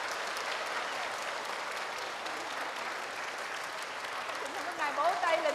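Sustained applause from a large crowd at a Buddhist Dharma gathering during a Tara Drolma retreat, steady broadband clapping for the whole stretch with a voice rising briefly near the end.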